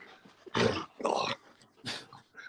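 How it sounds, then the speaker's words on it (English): A dog barks and growls in three loud, rough bursts close by, each lasting about half a second with short gaps, with no talk over them. "My dog's going nuts."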